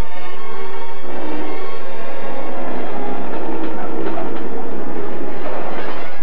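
A 1964 British Rail XP64 diesel train runs steadily along the rails, its engine drone and wheel rumble filling the whole stretch at close range with no voices.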